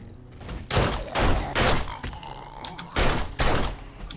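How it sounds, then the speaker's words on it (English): Gunfire sounds outside during a survival video game playthrough. Several loud, booming bursts come in clusters, with short quieter gaps between them and no talking. "I hear gunfire."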